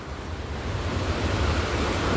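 Water of the Sabarmati river rushes past at a bathing and ritual spot, a close, continuous roar with deep rumble that builds slightly, with no voices.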